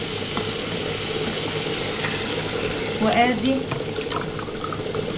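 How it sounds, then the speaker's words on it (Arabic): Water poured into a cooking pot for rice in a home kitchen, a steady running splash with a brief louder gush midway, while someone speaks briefly over it. "هحط الاول 3 كوبايات وربع ميه"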